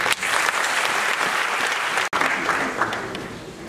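A large crowd at an opposition political convention claps loudly and continuously, a dense roar of applause that dips for an instant midway and then carries on at full strength.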